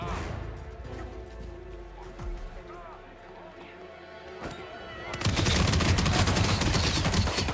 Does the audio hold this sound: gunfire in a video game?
yes